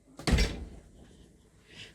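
A door swings shut with a single solid thud and a short rattle, followed by a quiet room with a faint shuffle near the end.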